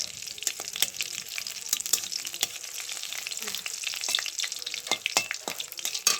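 Crackling sizzle of whole spices, including cumin, frying in hot oil, with sharp popping bursts scattered over a steady hiss, close up and without talk.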